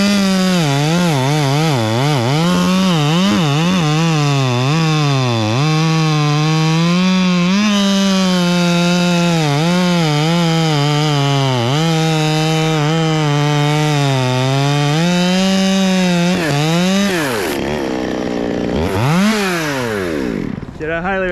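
Loud, close chainsaw cutting through very hard ironwood, the engine droning steadily with pitch dips and surges as the chain bogs and revs in the wood, continuous for about twenty seconds.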